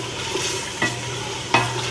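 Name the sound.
garlic frying in harissa sauce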